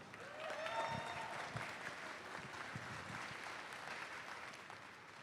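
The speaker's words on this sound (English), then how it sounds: "Give him a round of applause." An audience at a FIRST robotics district event applauds. The clapping is fairly distant and even, holding steady for about five seconds with a few sharper claps.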